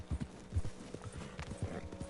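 Horse hooves clip-clop at a brisk, uneven gait in the Red Dead Redemption 2 video game, with close, thudding beats repeating several times a second.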